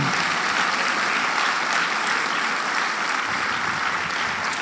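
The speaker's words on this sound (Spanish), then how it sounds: "denle un aplauso a Dios si usted tiene el anhelo, y déselo con todo su corazón" Steady, dense applause from a church congregation during a Spanish-language service, filling the room evenly and without pause, loud and sustained throughout with no voices rising above it.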